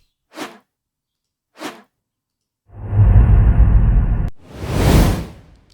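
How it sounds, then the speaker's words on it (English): A swoosh sound effect picked from a video editor's sound library plays twice as short airy whooshes, then repeats as a longer, louder, full-bodied rushing swish followed by a bright final sweep, with no talking. "You click on the plus and the swoosh has been added to the video."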